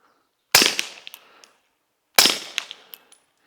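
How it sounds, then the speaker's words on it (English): Two suppressed shots from an FN 509 Tactical 9mm pistol loaded with Federal Syntech ammunition, fired downrange outdoors, each a sharp muffled crack followed by a short decaying tail with faint metallic clinks, about 1.6 seconds apart. "I'm gonna shoot one downrange."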